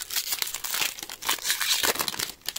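Foil wrapper of a Magic: The Gathering Streets of New Capenna booster pack crinkling and tearing open, close and continuous crackling with no voices.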